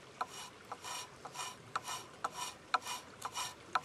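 The squared, sharpened spine of a knife scrapes along a metal match in quick, regular strokes, about two per second. Each stroke gives a soft, close rasping scratch that starts with a small click.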